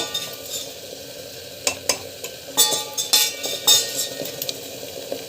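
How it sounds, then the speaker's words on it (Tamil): A spoon stirs a mixture in a cooking pan, giving a faint sizzle and a run of sharp clinking, scraping strokes that grow busier toward the end, close up and without talking. "ஸோ நல்லா வந்து கலக்கி விட்டுக்கலாம்."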